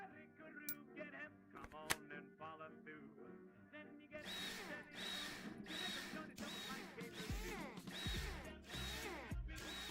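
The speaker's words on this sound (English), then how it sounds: "The screwing is pretty satisfying." A power drill driving screws into parts of a small wheeled build, heard as repeated short whirring bursts, each followed by a pause. A few clicks and handling sounds come first, and the sounds are close.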